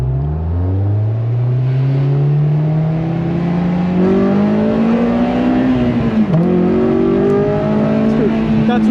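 Stock Honda S2000 engine with the airbox lid removed, revving hard under acceleration: a loud rising intake and engine howl climbing through the rev range, a brief dip around a gear change, then climbing again, close and continuous.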